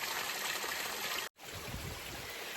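Water trickling and streaming steadily at a trail water source along the Benton MacKaye Trail near Springer Mountain, close and continuous, with a brief gap of silence midway.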